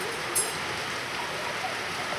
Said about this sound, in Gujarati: વરસાદ ફૂલ વરસાદ પડે છે.